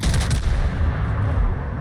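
Warship guns fire armor-piercing shells in a naval combat video game, a continuous loud rumbling barrage of booming shots lasting about two seconds with no talking.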